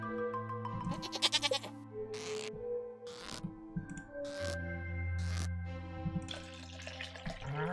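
Goats in Stardew Valley bleating several times in short, wavering calls over calm, tonal game music, moderately loud and without speech.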